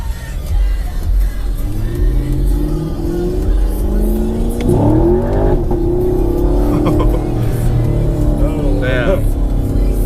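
A Chevrolet Camaro SS accelerates hard on the street, its engine roaring loudly and climbing in pitch before a shift into second gear and a renewed rising pull, with people talking over it.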